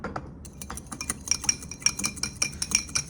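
A spoon scrapes and clinks around a bowl of garlic, lemon and olive oil being mixed, with a quick run of light metallic taps that settles into a steady, fairly close stirring rhythm and no talking.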